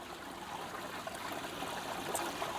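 Water runs steadily through a river flume in a fire and rescue water safety demonstration, a continuous close rushing and trickling with small splashes and no voices.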